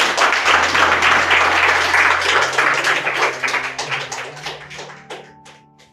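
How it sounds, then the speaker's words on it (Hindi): An audience at a poetry and spoken-word event bursts into loud, dense applause that gradually thins out and fades into scattered claps. "आपकी तालियां बताएं।"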